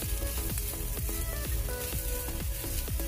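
Capsicum and long-cut carrot pieces sizzling loudly in a pan while being stir-fried for street-style Maggi, a dense, steady crackle broken by rhythmic scraping strokes of a spoon stirring the pan.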